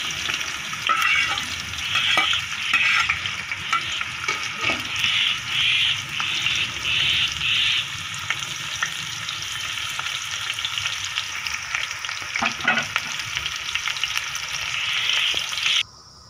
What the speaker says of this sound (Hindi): सबसे पहले घी में प्याज डाल दें।